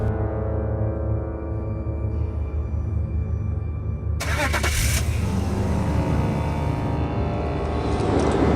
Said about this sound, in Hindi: बस एहराम, गाड़ी चलाओ।